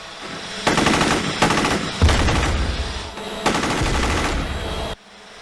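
Loud, sustained bursts of rapid automatic gunfire from a drone-mounted machine gun shredding a mannequin, several long volleys in a row, ending abruptly into quiet.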